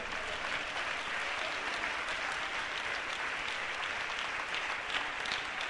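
A church congregation applauds in sustained, dense clapping that fills the whole stretch at steady loudness, with no clear voices above it.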